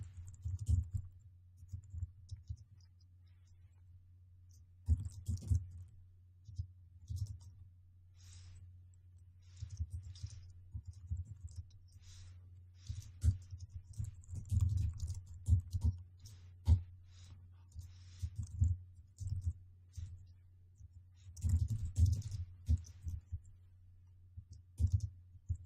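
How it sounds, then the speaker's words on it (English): Keys tapped on a computer keyboard while coding in C#, faint irregular clicks in short bursts over a low steady hum, no one speaking. "I'm going to type the following"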